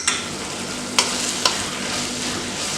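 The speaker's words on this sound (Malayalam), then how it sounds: "നന്നായി ഒന്ന് ഇളക്കി യോജിപ്പിക്കുക." Mackerel thoran cooks in a pan with a soft, steady sizzle, broken by a few brief scrapes as a spoon stirs it. There is no speech.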